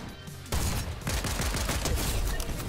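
A mythic drum shotgun in Fortnite fires in a rapid, loud barrage of blasts, close and continuous after a brief quieter start.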